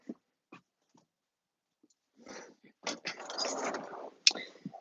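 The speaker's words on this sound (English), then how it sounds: "Dog's barking off his head up there." A dog barks in short, scattered bursts early on, somewhat distant, before people talk over the later part around a Dodge Ram workshop area.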